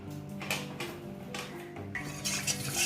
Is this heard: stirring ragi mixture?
yes